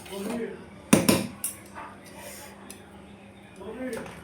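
A lid set on a pot of morog polao on low heat gives a sharp metallic clank, followed by a few lighter knocks and rattles in a quiet kitchen with faint talk.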